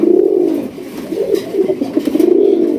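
Raj Golla pigeons on a Bangladeshi pigeon farm coo continuously close by, their low, throaty calls rising and falling in overlapping waves with no talking.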